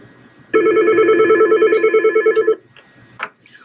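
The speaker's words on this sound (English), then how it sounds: "press your Transfer tab, dial the extension you wish to transfer to, and wait for that party to answer" A Medtel T48 office telephone gives off a loud, steady electronic tone for about two seconds, with a slight pulsing flutter, followed by a few faint clicks and a short chirp.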